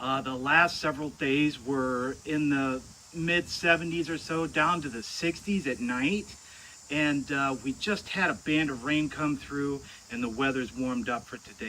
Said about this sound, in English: You can hear the cicadas singing in the trees behind me.